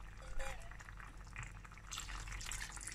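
Water poured from a tumbler into a cooking pot of mutton biryani, a short splashing pour under a person talking, with a brief louder burst near the start.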